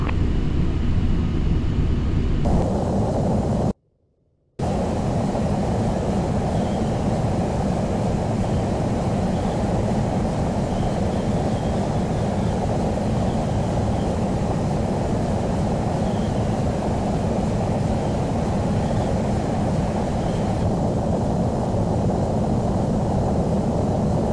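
Steady, loud airliner engine drone in flight from Flight Simulator X, a continuous low roar with a brief dropout near the start and a shift in cabin tone partway through.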